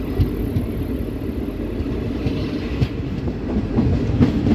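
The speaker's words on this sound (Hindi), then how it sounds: "बाकी हमारी ट्रेन यहाँ रणुज से सीधा पाटन की ओर आगे बढ़ चुकी है।" Passenger train rolling on an electrified line between Mehsana and Patan in Gujarat, India, heard from inside a coach: a steady low rumble of wheels with soft clickety-clack over rail joints, continuous and fairly loud, with no talking.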